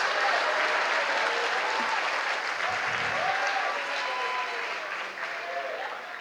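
Sustained applause from a church congregation during a Sunday worship service, a dense steady wash of clapping with faint voices mixed in, easing slightly toward the end.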